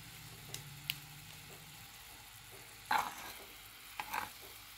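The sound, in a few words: stirring mustard-poppy paste with chilli and turmeric in a pan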